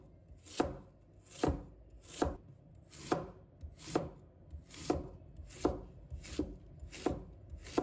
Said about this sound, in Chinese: 把它们切成薄片